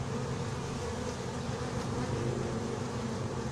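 Honey bees fly around a hive entrance in June, making a dense, steady, close buzzing hum without pause.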